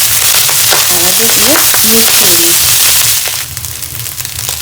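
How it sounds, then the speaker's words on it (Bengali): Rice with sugar being stirred in a hot pan, a steady loud sizzle and scraping that fades slightly near the end, with a few brief tonal chirps in the middle. "রাইসটা চিনি দিয়ে দিয়েছি এবার শুধু নাড়তে হবে"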